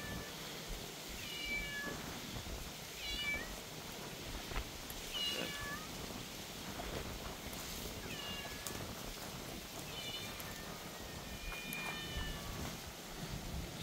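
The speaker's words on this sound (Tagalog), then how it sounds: "Alagang pusa natin." A pet cat on a goat farm meows repeatedly, short high calls spaced every couple of seconds, moderately close over a steady outdoor background hum.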